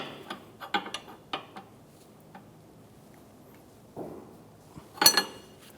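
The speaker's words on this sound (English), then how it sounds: "Using a 13mm wrench and a 22mm wrench, I'm going to hold the inner tie rod and tighten the jam nut." Two wrenches, 13mm and 22mm, tightening the jam nut on the inner tie rod of a 2012-2016 Subaru Impreza, a scattering of close, sparse metallic clicks and taps with a brief clank near the end.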